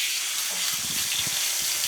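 A garden hose sprays water steadily and close while goats are being washed, a continuous hissing gush with no break and no talk.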